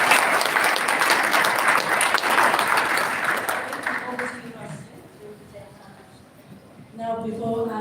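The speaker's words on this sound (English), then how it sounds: "please give a big round of applause for Dr." An audience gives a presenter a loud round of applause that gradually thins and fades, and a voice begins speaking near the end.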